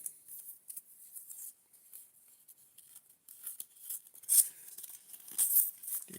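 Painter's tape peeled off a mail package holding baseball cards, a series of faint high crackly tearing and crinkling sounds, close by and intermittent.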